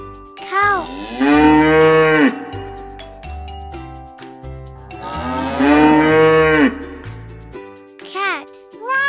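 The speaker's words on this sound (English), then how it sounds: "Cow." A cow lows in two long, loud moos with brief shorter calls around them, heard over a light musical backing on a farm animal sounds track.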